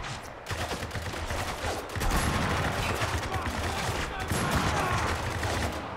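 Heavy gunfire in the shooter game Spec Ops: The Line: a dense, continuous barrage of overlapping shots and explosions-like bursts, loud and unbroken, with the battle noise filling the whole stretch.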